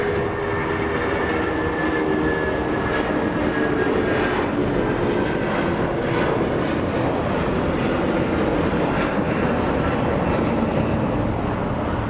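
A JetBlue airliner arriving from Boston at Los Angeles International Airport gives off a sustained, broad engine roar that rises and falls slightly over about twelve seconds, steady and fairly distant, with no talking.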